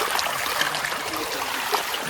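Shallow stream water rushing fast near a railway track, a steady close hiss and burble of flowing water heard alone.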